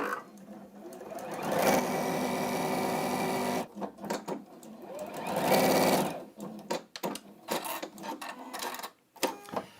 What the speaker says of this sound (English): You just fold those to the edge there and you sew to the end.